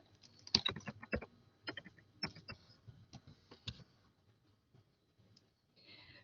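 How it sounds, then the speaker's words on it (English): Irregular, quiet clicks of typing on a computer keyboard come in short bursts, then taper off into near silence. "I'm also learning how to type as I talk to you"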